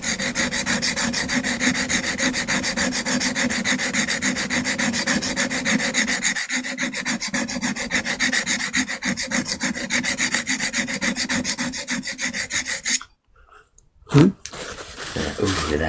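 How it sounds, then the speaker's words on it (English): A printmaking tool is sharpened with a steady, continuous scraping and rubbing that runs loud and close for about thirteen seconds, then breaks off, with a couple of brief strokes near the end. "Ooh, that sharpening sounds nice."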